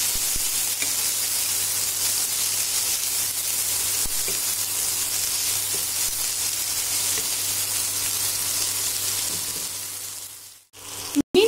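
Tandoori chicken gravy ingredients sautéing in a pan, a steady loud sizzle and crackle of hot oil running continuously for about ten seconds before a brief break and sharp clatter near the end.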